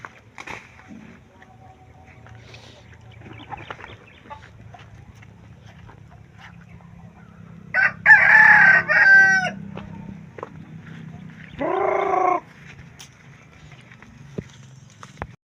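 Breeder chickens in a backyard coop fill the air with faint scattered clucks and rustling, while a rooster crows loudly twice, one long crow in the middle and a shorter one soon after.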